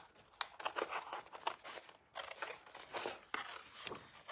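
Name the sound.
scissors cutting around card paper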